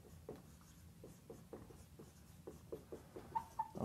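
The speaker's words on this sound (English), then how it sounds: "the first thing that I want to kind of write on the board is the following" Marker or chalk writing on a board during a basic multiplication lesson, a series of short quiet scratchy strokes in an irregular rhythm, close and faint, with no talking.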